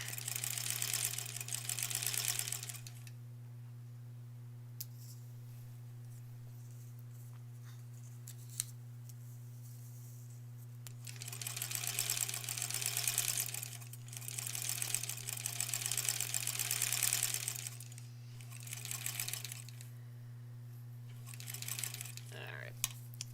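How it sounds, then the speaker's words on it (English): A sewing machine stitches a foundation paper pieced Country Star quilt block, running in bursts at steady speed with pauses between, over a constant low electrical hum. "Sewing right on the line."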